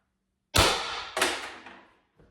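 A .68 caliber Pistelle/Intrubuster pistol fitted with a new magazine base plate fires two sharp, loud shots about half a second apart, each decaying quickly, followed by a faint click.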